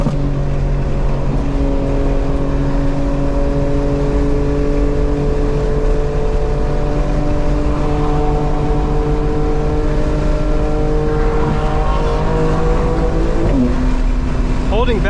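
A 900 hp 2025 BMW M4 Competition xDrive pulls hard through the gears in rear-wheel-drive mode, its engine note climbing steadily in pitch, then dropping briefly at a shift near the end before rising again, loud and close under a steady roar.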